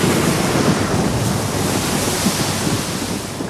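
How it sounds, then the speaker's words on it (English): Storm wind and crashing waves at Doubtless Bay, driving a ship toward the rocks: a dense, loud, unbroken roar of surf and gusting wind filling the whole clip, no speech. "The wind and waves drove it closer and closer to the rocks."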